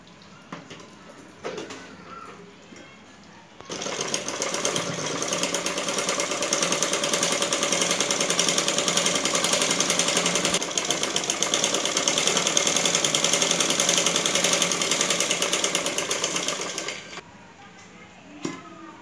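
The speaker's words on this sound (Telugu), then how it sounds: "మనము ఇప్పుడు నిలువు కుట్లు వేసుకుందామండి" A sewing machine stitches vertical seams on a blouse, running steadily with a loud, even rapid hum and rattle for about thirteen seconds after quieter handling, then stopping.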